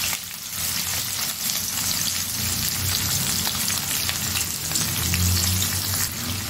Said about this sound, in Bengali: এবার এই পেঁয়াজটাকে আমি গোল্ডেন ব্রাউন করে ফ্রাই করে নেব